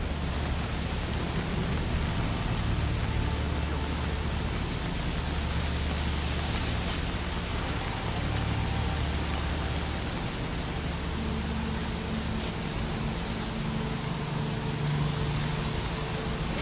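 Steady, heavy rain hisses continuously across the whole stretch in the video game Days Gone, a dense even wash with a low rumble underneath and no voices.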